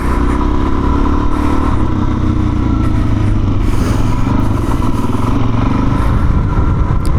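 A 2019 Suzuki DRZ 400 dual-sport motorcycle being ridden, its single-cylinder engine droning loud and steady with wind rush and rattle throughout, no talk.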